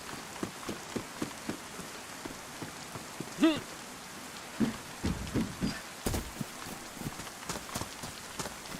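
Rain in the DayZ survival video game, a steady patter of drops on surfaces with scattered sharper taps and thumps mixed in, moderately loud and continuous, with no talking.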